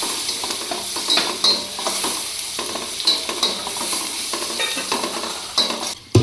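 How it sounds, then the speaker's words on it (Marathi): Chopped tomatoes being stirred into a sizzling dal khichdi mixture in a pan, with a steady frying hiss and repeated scraping stirs and light utensil clinks throughout, no talking. "हे सगळं एकत्र करून घेते त्यानंतर यामध्ये टॉमॅटो चिरलेला टाकून घातला"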